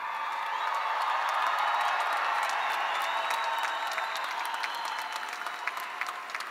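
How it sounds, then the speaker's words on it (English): A graduation convocation audience for an engineering class claps steadily for several seconds, a dense wash of applause from a large crowd at moderate distance with scattered sharper claps and no talk. "let's give one more huge round of applause to the engineering graduating class of spring 2022."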